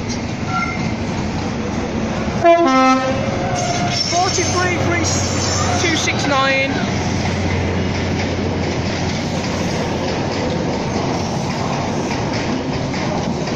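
An HST high speed train departs York station, a steady low rumble of the train running throughout with a few brief squeals and clanks near the start, heard from close by.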